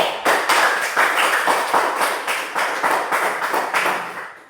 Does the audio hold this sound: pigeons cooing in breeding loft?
no